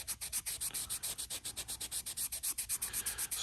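A cleaner-soaked towel scrubs a diamond sharpening stone in about twenty quick, even back-and-forth strokes, each a close, rasping swish in a steady rhythm, with no talking.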